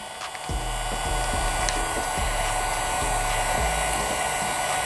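A heat gun blowing steadily while heat-forming PPF clear wrap on a car hood, a constant close airy whoosh with a low rhythmic flutter underneath.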